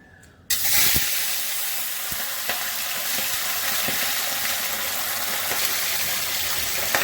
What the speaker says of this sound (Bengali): তার জন্য আমি ছটা পোনা মাছ নিয়ে নিয়েছি এগুলো এখন ভেজে নেবো